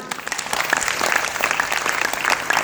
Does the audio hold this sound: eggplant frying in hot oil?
no